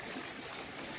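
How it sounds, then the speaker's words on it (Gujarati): Rainwater runs from rooftop drainpipes during continuous rain, making a steady, even trickling wash that stays unchanged from start to finish. "ઝીણા પાણી મીણર ભૂંગળા ચાલુ થઈ ગયા છે."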